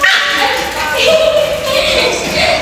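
Two dogs left behind indoors in Baguio City bark and yip loudly in quick overlapping bursts, close by, while a person talks over them.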